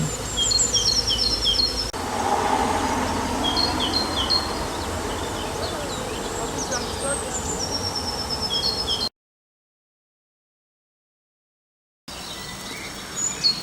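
A bee swarm buzzing around a Kenyan top-bar hive outdoors, a dense continuous hum with individual bees zipping past close by, birds chirping faintly behind, then a gap of silence before the buzzing resumes.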